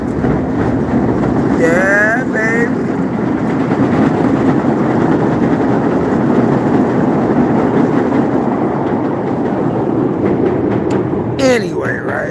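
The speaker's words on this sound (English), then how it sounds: "Then we got more trains coming." A passing train in Chicago rumbles loud and steady throughout, with a brief voice speaking over it near the start and a sharp squeal near the end.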